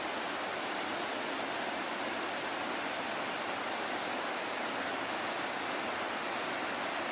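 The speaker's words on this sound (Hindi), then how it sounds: "पानी का बहाव अचानक से बढ़ गया है।" Rushing river water, swollen after a sudden dam release near Tiuni in Uttarakhand, roars as a steady, dense broadband wash that stays constant and loud throughout with no voices.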